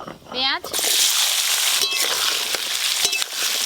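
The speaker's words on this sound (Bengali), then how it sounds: "পেঁয়াজগুলো ভাজতে একটু সময় লাগবে, পেঁয়াজ ভাজা হতে থাক" Whole small onions hit hot oil for a goat-meat and potato curry, bursting into a loud, steady sizzle and splatter that carries on without a break after a brief voice at the start.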